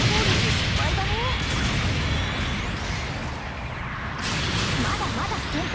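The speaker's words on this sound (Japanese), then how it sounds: "後方部隊から支援砲撃が来るよ。" Support artillery bombardment in Gundam Battle Operation 2 rumbles as a dense, continuous wall of blasts and explosions throughout, loud and near, with brief whooshes layered in.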